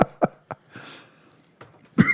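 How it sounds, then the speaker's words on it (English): A man coughs several times in short, sharp bursts with brief gaps, close and dry, followed by a throat-clearing cough at the end. "I might have an answer I'm still getting over my little cough here"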